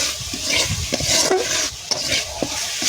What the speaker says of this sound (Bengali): মশলাটাকে ভালো করে পাক করব।